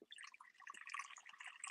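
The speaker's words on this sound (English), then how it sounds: "That's me filling my cat's water bowl." Water trickling and dripping into a cat's water bowl at home, a quiet, close, bubbly stream of splashy drips with no talking over it.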